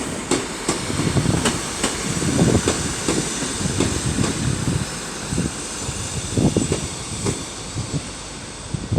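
A grimy East Midlands Railway class 156 diesel unit, 156 405, arriving at Crewe station, with a low rumble under repeated rhythmic wheel clicks and clanks as it rolls in.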